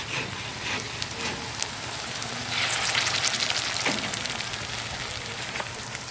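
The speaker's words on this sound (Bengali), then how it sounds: "ভাজা প্রায় হয়ে আসছে, আর একবার দিলেই ভাজা হয়ে যাবে" Cabbage fritters fry in hot oil with a steady, dense sizzle and crackle that swells louder for a few seconds midway, then settles back, with no one talking.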